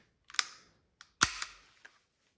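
A Walther PPK/S Maruzen airsoft gas blowback pistol fires twice in double action, each shot a sharp snappy crack with the slide clacking back, followed by fainter mechanical clicks, close and with no talking.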